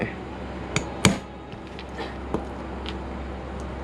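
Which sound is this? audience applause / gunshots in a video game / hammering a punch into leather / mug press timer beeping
hammering a punch into leather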